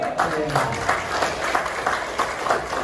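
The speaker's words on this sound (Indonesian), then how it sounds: "Bapak Ibu saya ajak Bapak Ibu semangat tepuk tangan, angkat tangan" Seminar attendees in a hall clap together in a sustained, even wash of many hands, with periodic louder swells, while a voice talks over the applause.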